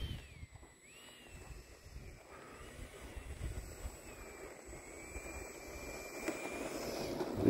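Radio-controlled E-Flite F-16 Thunderbirds jet with a 70mm electric ducted fan flying at an RC airfield, a faint whistling whine that rises and falls as it passes, over quiet outdoor background.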